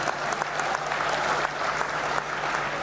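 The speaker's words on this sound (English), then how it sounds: "A big applaud for ICFAI, please." Steady, dense applause from a large audience fills an ICFAI university graduation ceremony for the class of 2024, a continuous wash of many hands clapping without pause.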